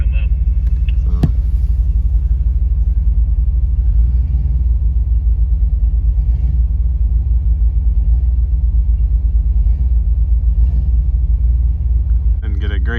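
A 4x4 vehicle's engine rumbles steadily and loudly while climbing an off-camber trail between Hermit Valley and Blue Lakes, a low continuous drone throughout with a brief clunk early on.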